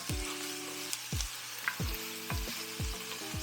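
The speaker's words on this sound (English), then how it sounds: "it's nothing like the smell of onions being cooked in olive oil" Onions frying in olive oil over a high flame, a steady close sizzle with repeated low knocks and scrapes of stirring at a regular pace, no talking.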